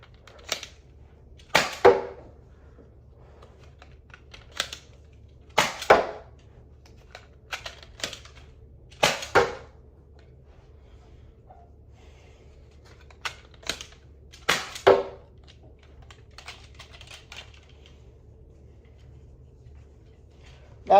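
A Zuru X-Shot Kickback toy blaster firing Nerf Elite darts, about a dozen sharp snapping shots heard close up in a quiet room, spaced irregularly with pauses of a second or more, some shots coming in quick pairs.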